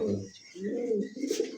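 A male Mundian pigeon gives a few low, throaty coos at close range in short rolling phrases, with faint background sounds between them.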